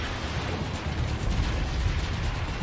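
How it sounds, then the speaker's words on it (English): Grenade blast in a shooter video game, a sustained low rumbling roar that stays loud and steady across the whole stretch with no clear single crack, dense and close. "Grenade downrange!"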